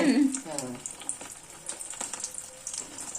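Bread pakora sizzles and crackles in hot frying oil, a dense, steady spatter close to the listener; a brief voice sounds at the start.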